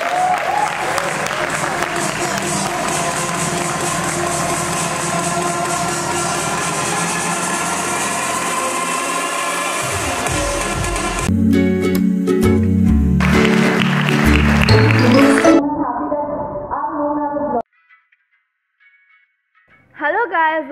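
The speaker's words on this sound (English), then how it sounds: "round of applause" A crowd at a live edutainment show applauds in a long, dense burst of clapping, followed by loud music and then a short stretch of near silence.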